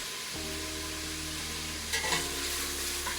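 Bacon frying in a soup pot sizzles softly and steadily, with a short burst of stirring and scraping partway through, and no talking.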